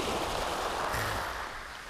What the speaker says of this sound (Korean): 아, 근데 진짜 여기 파도 소리 너무 좋은 것 같아요.